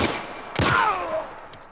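Gunfire in The Last of Us Part 1, a sharp close burst of shots followed by a short ringing ricochet-like tail, brief and loud against quiet game ambience.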